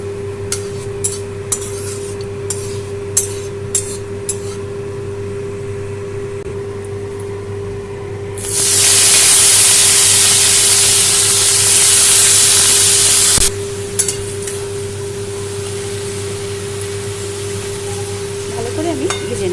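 Chopped red spinach hits hot oil in a wok with a sudden loud hiss that lasts about five seconds before dropping back to a quieter sizzle, with a few clicks and stirring sounds and no voices.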